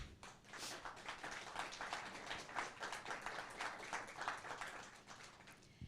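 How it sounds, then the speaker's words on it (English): An audience at a TEDx event applauds a team of award winners, a steady round of many hands clapping that stays dense and fairly even for several seconds, heard from some distance at modest volume. "Let's have a huge round of applause for them."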